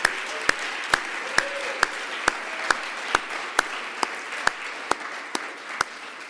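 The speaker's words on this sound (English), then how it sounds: "let's give them a big round of applause for the career counselors" At a medical school Match Day ceremony, slow, evenly spaced single claps ring out one after another, crisp and fairly faint, like a lone pair of hands keeping a steady rhythm.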